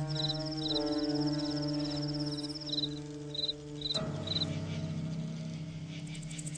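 Crickets chirp in a garden in short, rapid pulsing bursts, repeating steadily over a continuous low tonal hum in the background.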